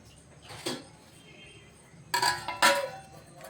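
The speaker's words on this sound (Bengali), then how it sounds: "এবার আমি দইটাকে ঢাকা দিয়ে দিচ্ছি।" A lid or cover going onto a pot of sweet yogurt (mishti doi), with a soft clink first and then a cluster of metallic clatters and scrapes, close and fairly quiet.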